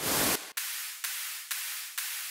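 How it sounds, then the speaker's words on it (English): White noise hits in a future bounce drum track made in Ableton: a loud initial burst followed by four evenly spaced hissy noise bursts, each swelling and fading in a steady rhythm. "I added in some white noise hits,"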